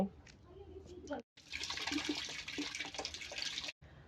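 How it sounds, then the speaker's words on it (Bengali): Tap water runs steadily into a sink as hands are washed after nail trimming, a continuous hissing splash broken by a brief pause near the start and a short cut-off near the end. "তো এখন হাত ধুইয়া এগুলো পরিষ্কার করব।"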